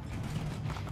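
Horse hooves gallop in Assassin's Creed II, a steady, dense run of low hoofbeats that stays loud and continuous throughout with no talk over it.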